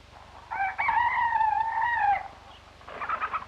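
A rooster crows one long, loud, drawn-out call close by on a farm in the early morning as chickens come down from their roost, followed by softer clucking afterward.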